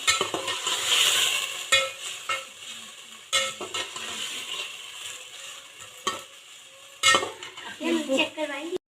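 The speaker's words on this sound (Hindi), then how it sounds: "अब हम इसको अच्छी तरह मिक्स कर देंगे।" A vegetable pulao mixture with carrots is stirred in a pot, giving close scraping and clattering of a spoon against the metal over a light sizzle, with bursts of louder clinks near the end.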